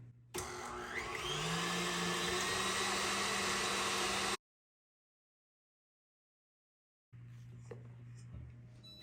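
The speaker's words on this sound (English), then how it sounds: "The first step is to put egg whites and salt into the mixer." An electric mixer runs at high speed whipping egg whites with salt, a steady loud whirring drone that cuts out abruptly, leaves a gap of silence, then resumes more quietly with a low hum and light clatter.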